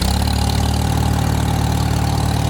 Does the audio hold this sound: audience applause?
no